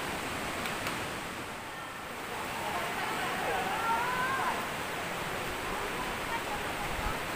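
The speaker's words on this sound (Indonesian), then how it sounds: "Akhirnya saya nyampe di dasar air terjun Tumpak Sewu" Steady roaring wash of Tumpak Sewu waterfall heard from its base after rain, the water running muddy; a continuous broadband rush fills the scene close and loud, with faint bird chirps above.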